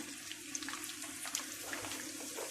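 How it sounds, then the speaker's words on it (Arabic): Onions dropped into hot oil for Egyptian koshari, a soft, steady sizzle and crackle with faint scattered pops, fairly quiet and with no talking. "الزيت بتاعنا سخن، هننزل بصل"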